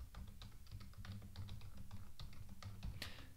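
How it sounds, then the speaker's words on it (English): Fingers type a password on a computer keyboard in quick, quiet, irregular key taps, close up, ending with a slightly firmer keystroke. "then type in my password"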